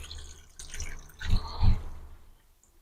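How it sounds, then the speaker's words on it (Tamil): Milk poured into a Nutella milkshake, a short liquid splash with two soft low-pitched glugs in the middle, fairly faint and close, with no talk. "இப்போ நிறைய மில்க் ஊற்றி"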